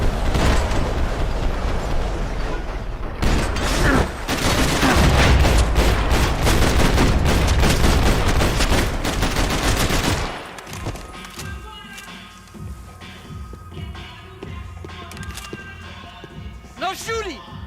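Dense, loud gunfire from the Max Payne 3 video game, rapid bursts and fusillades running continuously for about ten seconds, then cutting to quieter ambience with game voices talking.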